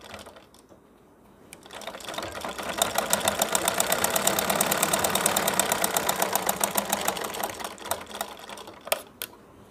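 A sewing machine stitching cloth for a baby napkin hanger runs in a fast, even needle rhythm that starts up, holds steady for several seconds and slows to a stop, close and without talk.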